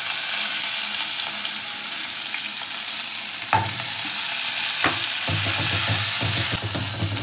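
Mustard flowers frying in hot oil in a pan, a continuous sizzle broken by several sharp scrapes and knocks of a spoon stirring, close and loud with no talk.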